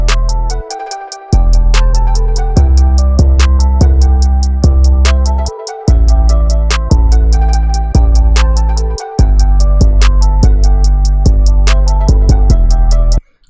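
A heavy 808 bass pattern built in Ableton moves through E, up to C, down to A, then G. The booming notes sit under a fast, steady hi-hat tick, with brief drop-outs between phrases.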